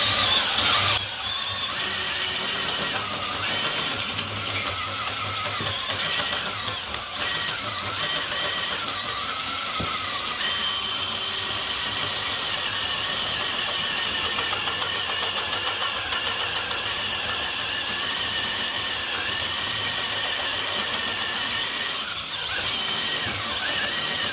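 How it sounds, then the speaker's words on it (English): A DeWalt power tool, run with cutting fluid, grinds through a weld on a towable backhoe trencher, a loud continuous mechanical whine with squealing overtones that holds for over twenty seconds with no talking. "I'll show you how I cut through the weld and down through to get this out."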